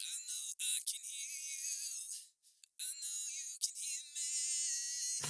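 A raw vocal recording filtered down to only its highest frequencies, leaving a thin, hissy, crisp sibilant whine that follows the phrasing of the voice with brief gaps, faint and heard alone.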